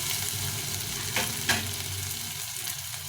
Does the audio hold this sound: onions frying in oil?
yes